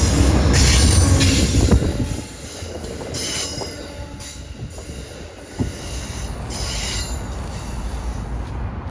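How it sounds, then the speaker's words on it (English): A train rolls past on the tracks, loud at first and easing off, with metallic wheel squeals and a steady rumbling clatter. "I can actually hear a train coming."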